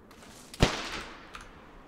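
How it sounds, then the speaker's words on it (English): A single gunshot in DayZ on the Namalsk map, one sharp crack close by that rings out briefly, followed by a much fainter snap moments later. "Are you trying to shoot me?"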